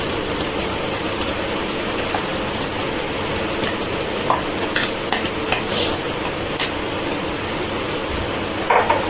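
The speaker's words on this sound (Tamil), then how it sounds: "ஒரு 2 மினிட்ஸ் வதங்கணும் நெய் விட்டு" Grated coconut stirred and sautéed in ghee in a hot kadai, a steady soft sizzle with occasional scrapes and light clinks of a spoon against the pan, close and continuous.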